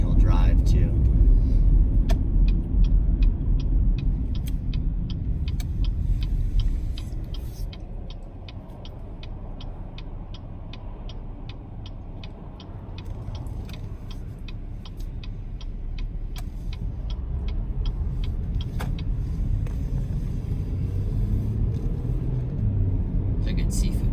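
A car driving and making a U-turn gives a steady engine and road rumble, loud at first and then easing, with a regular turn-signal ticking through most of the stretch and someone talking over it.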